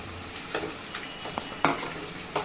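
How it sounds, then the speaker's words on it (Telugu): Onions and green chilies fry quietly in a pan under a few sharp spoon scrapes and metallic clinks of stirring, with only a faint sizzle between them. "ఉల్లిపాయలు బాగా వేగేయండి."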